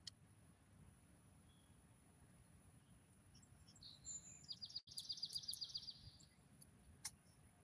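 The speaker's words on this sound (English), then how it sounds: "Bird flying over." An outdoor bird flying over gives a quick run of thin, high chirps, faint and distant above a low steady rumble of wind, with a few scattered ticks around it.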